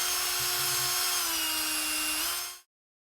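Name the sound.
part spinning in a drill chuck, used like a lathe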